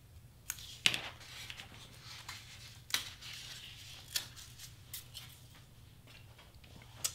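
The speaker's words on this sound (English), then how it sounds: "Okay, so I just need to trim this circle and a little bit right here" Scissors trimming around a paper circle for a Hello Kitty party prop, a series of faint, sharp snips spaced irregularly over a quiet background.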